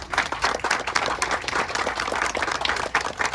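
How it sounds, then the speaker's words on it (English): An audience at the Smartville MOAB launch breaks into steady, dense applause, many hands clapping together at close range with no voices on top. "Let's give a round of applause to Anthony and the whole team here at Smartville."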